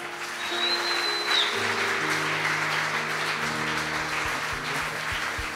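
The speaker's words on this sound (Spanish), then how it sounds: "Y si quieres darle un aplauso a Dios." Congregation applause at a church service, a moderate wash of clapping that continues throughout, with sustained low musical tones from a keyboard underneath.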